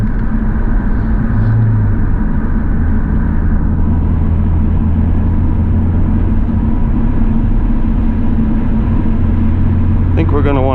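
Engine of a Genesis Coupe 2.0T under way, a loud steady low drone and road rumble heard from inside the car, with a brief rising tone near the end.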